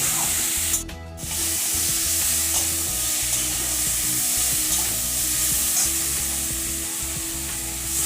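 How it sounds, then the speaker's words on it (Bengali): Sponge gourd stir-fried with spice masala in a pan for a Bengali curry with bata fish, giving steady close sizzling with stirring scrapes, a low tonal hum running underneath and a brief dip near the start. "এই মশলার সাথে আমি ঝিঙেটাও ভালো করে মিশিয়ে নিচ্ছি।"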